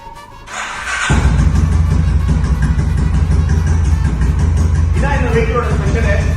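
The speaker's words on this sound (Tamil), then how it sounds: "நம்ம தூரமா இருந்தும் இந்த வண்டியை ஸ்டார்ட் பண்ணிக்கலாம்" A vintage Royal Enfield motorcycle starts by remote after a short electronic chirp, then settles into a loud, close, thumping idle with a steady rhythmic beat that continues to the end.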